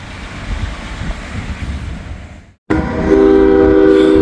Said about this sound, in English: Looks like we got a CSX grain train, empty grain train coming back to get more grain